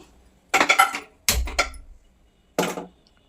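A pan clatters onto a gas stove in a home kitchen before okra fry, three distinct metallic knocks and scrapes in quick succession, close and loud against near silence.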